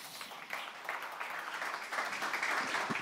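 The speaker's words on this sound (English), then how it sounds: "a big applause for Gabriele" Audience applause for the second-place pitch winner on stage at the Solve for Tomorrow pitch finals, a steady, fairly soft wash of clapping from a crowd that holds level and swells slightly toward the end.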